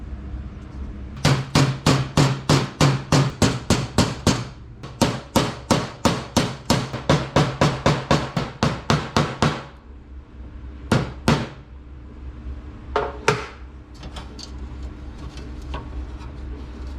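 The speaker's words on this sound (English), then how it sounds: "It might work if I can just gently hammer that down." Repeated hammer taps on stainless steel window trim on the rear windscreen of a 1951 Chevy Fleetline: quick rhythmic bursts of sharp metallic knocks, near and loud, followed by a few scattered single blows.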